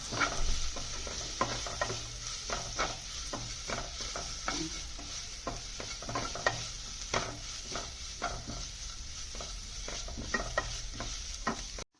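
Mushroom masala with chopped tomato is stirred in a sizzling pan, repeated scraping strokes of a spoon against the pan over a steady frying hiss, close and fairly loud throughout.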